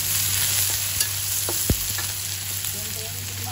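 Onions and garlic hit a hot pan for a miso-style barracuda dish, giving a steady, close sizzle with a single sharp clink of a utensil partway through and no talking.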